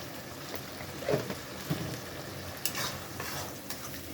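Soybean chunks tipped into a hot pan of oil, giving a soft, steady sizzle with a few stirring scrapes and small pops, fairly quiet and close with no talking.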